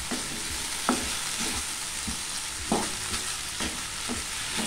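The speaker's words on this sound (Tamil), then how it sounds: "இப்போ இதையும் நல்லா வறுத்துக்கலாம்." Foxtail millet roasting and being stirred in a pan for payasam, giving a steady dry sizzle with intermittent scraping strokes of the spoon; close and alone.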